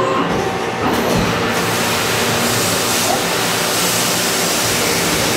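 A CNC lathe starts its cycle and runs with heavy coolant flow, giving a loud, dense, steady wash of spraying fluid and machine noise that continues without a break.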